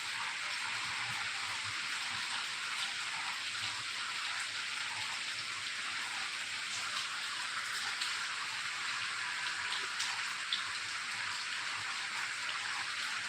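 Steady rain falls continuously, a dense even hiss of drops on surfaces that stays close and constant throughout with no voices.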